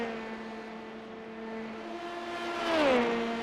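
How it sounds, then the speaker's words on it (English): V8 prototype race cars in the iRacing sim at Mid-Ohio, a high screaming engine note holding steady then sweeping down sharply as a car brakes or shifts into a corner, loud and close with no talk. "Love the way these cars scream off into the corner."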